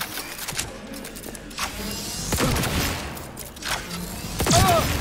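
Gunfire in the video game Cyberpunk 2077, a series of sharp repeated shots and thumps spread through a busy mix of game sounds, moderately loud with a rising burst near the end.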